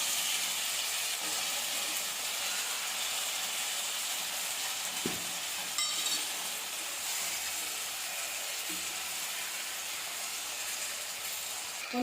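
Onions and ground tomato paste sautéing in a pan for an egg kuzhambu, a steady soft sizzle and hiss running close and continuous with a couple of faint utensil knocks, no talking.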